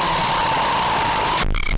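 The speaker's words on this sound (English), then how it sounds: "It's like a distortion pedal." A harsh, buzzing wash of distorted noise from boosted gain on a Yamaha MG10XU mixer, with a steady tone running through it, cuts off abruptly near the end.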